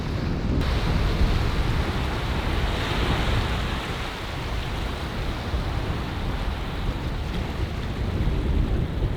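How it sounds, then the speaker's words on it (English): Strong wind blowing on a beach by the sea, a constant loud rumble buffeting the microphone, with waves washing underneath and no talking. "Hopefully the wind's not disturbing us too much"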